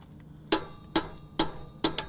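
Four sharp metallic taps from a hammer striking a rusted car exhaust, evenly spaced about half a second apart, close and fairly quiet with a faint ringing tail.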